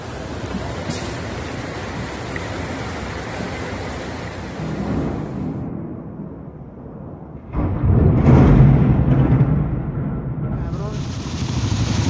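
Torrential rain roars through flooded streets in Picacho, Mexico City, during a severe storm, a dense steady hiss and splash that swells louder midway, with a voice speaking briefly over it.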